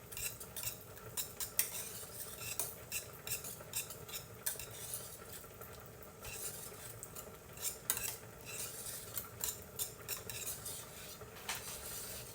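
Pesto stirred into bechamel sauce in a pan, with a quiet, rhythmic scrape and tap of the spoon against the pan over a faint simmer, heard alone with no talking.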